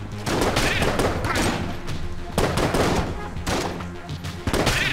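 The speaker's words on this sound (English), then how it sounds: "He's using a very hot load in this gun. It's fireballing this much." Rapid bursts of heavy gunfire from a gun with a very hot load in Enter the Gungeon, loud cracking volleys repeating in clusters throughout, with some booming thuds between shots.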